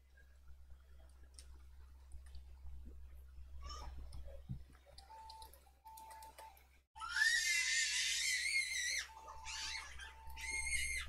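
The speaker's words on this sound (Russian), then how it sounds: "У меня такое ощущение, что Соня в соседней комнате специально орет" High, shrill screaming breaks out in bursts after quiet ticking and faint background noise, muffled as if from another room.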